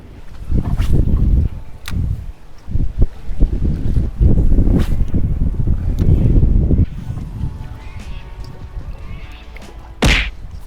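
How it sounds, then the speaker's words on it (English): Gusty wind buffets the microphone while fishing from a boat, loud rumbling bursts rising and falling with a few knocks and thumps, easing toward the end before a final sharp gust. "Must be all that wind."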